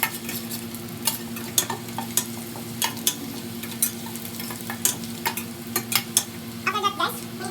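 Garlic frying in a pan until brown: a constant sizzling hiss under frequent sharp stirring scrapes and clicks of a utensil against the pan, close and busy.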